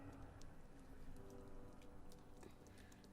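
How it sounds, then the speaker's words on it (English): Rain falls in the video game Whispering Willows, a very quiet, continuous patter of drops with scattered light ticks against a soft hiss, with no talking. "Oh no, it wasn't spiders, it was the rain."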